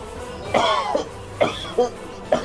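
Four harsh coughs, close by, spaced unevenly across a couple of seconds, with a faint hum underneath.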